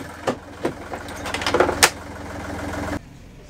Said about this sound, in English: I'll run the engine now with the panel off and the panel on just to show you the difference.